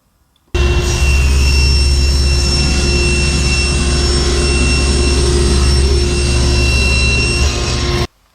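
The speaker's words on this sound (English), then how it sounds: "we're going to take this over to the table saw, and we're going to cut off this 6-inch strip" A table saw cuts a 6-inch strip off a wooden board: a loud, close, steady whine and roar starts abruptly, holds for about seven and a half seconds, then cuts off, with no talking.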